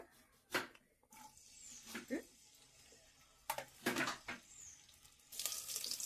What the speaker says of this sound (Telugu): పచ్చిమిరకాయలు అయితే వేగిపోయినాయి కదా